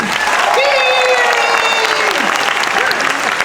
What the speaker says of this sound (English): Let's give a big round of applause for Serena Arvizo, everybody.